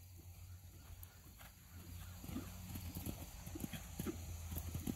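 Horse cantering during a jumping lesson, a quick rhythmic run of muffled hoofbeats that grows slightly louder as it nears, with a steady low background hum.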